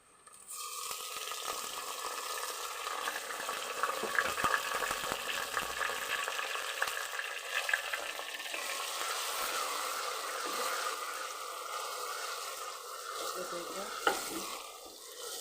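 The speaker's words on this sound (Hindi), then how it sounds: "अब हम इसमें टमाटर ऐड करेंगे।" Tomatoes going into browned onions in a hot pot for channa curry, giving a steady, close sizzle and frying hiss with stirring scrapes that runs the whole stretch without talk.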